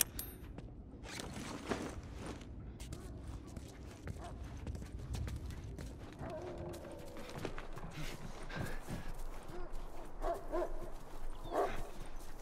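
Dogs barking in The Last of Us video game: several barks, yips and whimpers come in bursts over a low ambient bed, at moderate distance, with no talk.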